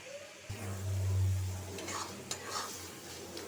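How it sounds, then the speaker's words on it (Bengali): Spice paste for chapa shutki bharta (pressed dried fish mash) sautéing in a pan, a steady close sizzle with a low hum and a few scraping stirs toward the end. "মশলাটা কষানো হোক"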